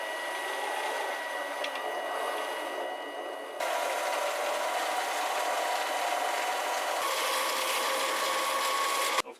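A mini lathe cutting a steel bolt at the thread entry, producing a continuous close scraping, rasping machining noise with a faint whine, shifting tone partway through, then stopping abruptly at the end.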